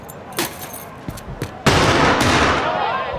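Gunfire in Call of Duty: Modern Warfare II, with a few sharp separate shots followed by a sustained loud burst of rapid fire that carries on to the end.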